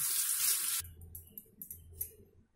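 Gas stove burner parts are rinsed under a running tap, starting with a loud, steady hiss of water that cuts off abruptly and gives way to faint clinks and handling sounds of the wet metal pieces.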